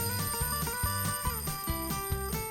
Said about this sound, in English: And that's how an alarm clock rings.